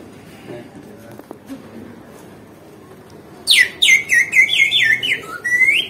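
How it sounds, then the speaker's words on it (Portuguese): After a quiet stretch, a vendor's shrill whistle sounds in a rapid series of chirping, warbling blasts, close and loud, in Argentina. "Oh, é um apito."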